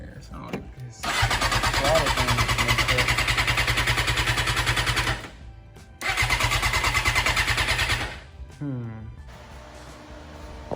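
Suzuki GSX-R 600 motorcycle engine cranking over without catching, two long steady starter bursts of about four and two seconds separated by a short pause, loud and close, followed by a brief lower mechanical rattle.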